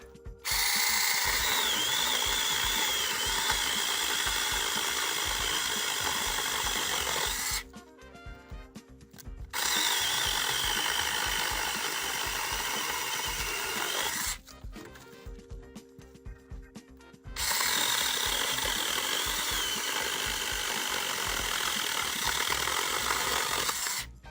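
Cordless mini chainsaw TEX.AC TAOE-S4 cutting a branch for firewood: three long, loud whining bursts of the running chain biting wood, separated by short quieter pauses.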